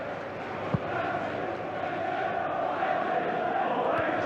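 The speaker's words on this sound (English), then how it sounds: "Another capacity Old Trafford crowd." A capacity football crowd at Old Trafford for a Manchester United vs Manchester City Premier League match gives off a continuous, distant roar and murmur, with faint voices in the mix.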